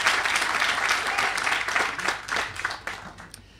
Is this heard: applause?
yes